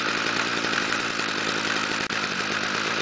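A Stihl weed whacker engine runs steadily just after a cold start in freezing winter weather, with a loud, continuous high-pitched two-stroke buzz and one brief dip near the end.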